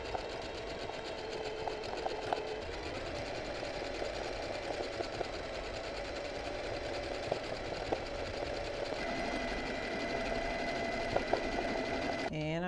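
A sewing machine stitches freehand embroidery with a small, narrow zigzag, its needle whirring steadily and close by for the whole stretch, with faint ticks over the running motor.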